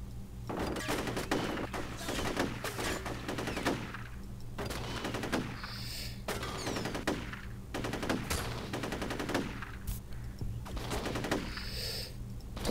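Gunfire in the horror shooter F.E.A.R., repeated bursts of rapid automatic shots and single cracks separated by short pauses, loud and close over a low background hum.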